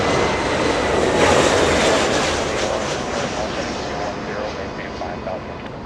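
Delta Airbus A320 jet arriving at Los Angeles International Airport on a flight from Austin, a loud broad roar of engines that holds steady and then slowly fades as the plane passes, with no voices over it.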